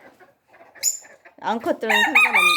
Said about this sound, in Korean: 수컷들은 이건 꽁닭 울음소리입니다.